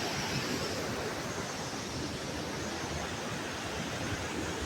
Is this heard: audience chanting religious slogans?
no